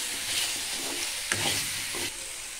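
Ginger roasts with salt in a pan for ginger pickle, a dense, steady hiss of dry sizzling close up with a few scraping stirs partway through, and no talking.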